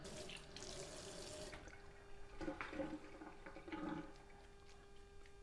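Tap water runs and splashes over hands at a restaurant grill station where Persian kebab koobideh is shaped on skewers, a quiet steady stream that stops, then brief splashing and dripping follows.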